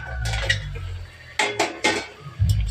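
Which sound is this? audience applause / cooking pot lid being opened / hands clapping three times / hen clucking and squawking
cooking pot lid being opened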